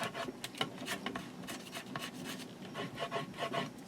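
A faint, dry rubbing and scraping as paper is burnished down along the edge of a handmade book, with short, quick strokes repeating steadily and close by.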